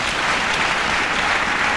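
A church congregation applauding during a sermon, a dense, steady wash of many hands clapping together, loud and continuous for a couple of seconds with no speech over it.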